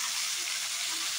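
Cut potatoes frying in oil with chilli powder and turmeric give a steady, close hiss of sizzling that stays even throughout, with no voices.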